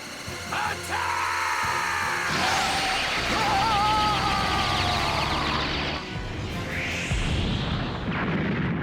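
A Big Bang Attack energy blast from the video game Dragon Ball Z Kakarot: a rising, whooshing charge with wavering tonal whines, then a swelling burst and a second sweeping roar near the end, loud and synthetic with no talk.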